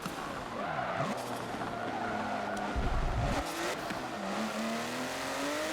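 A race car in Forza Motorsport 7 drives at speed with a steady engine drone and long squealing tire skids through corners, loud and continuous, with no voices.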